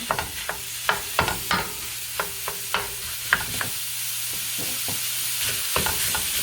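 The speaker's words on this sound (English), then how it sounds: "Just going to use the back of the spoon, break that up a little bit, give it a stir" Ground beef for chili con carne fries in a pan while the back of a spoon breaks it up, sharp scraping knocks arriving in an irregular cluster over a constant sizzle, close and without voices.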